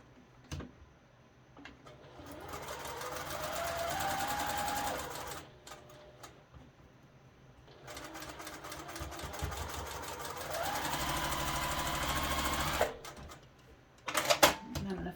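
A sewing machine stitches quilt pieces for a flag quilt in two sustained runs, its motor whirring up to speed and holding steady before stopping, with brief handling clicks between runs and a voice speaking faintly underneath.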